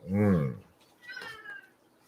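A cat gives two meows, the first low, drawn-out and loud, the second higher-pitched and fainter after a short pause, close by with no talk.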